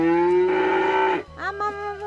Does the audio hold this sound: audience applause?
no